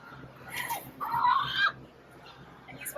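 A rooster gives a few soft clucks and a short, louder call near the middle, then a quieter cluck at the end, fairly close but low in level, with no talking.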